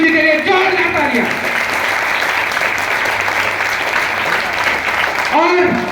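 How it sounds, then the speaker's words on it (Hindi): Loud crowd applause for two gurus at a direct-selling motivational gathering, continuous clapping with a voice speaking over it at the start and again at the end. "जोरदार तालियां हरिंदर गुरुजी और जगदीश गुरुजी के लिए, जोरदार तालियां"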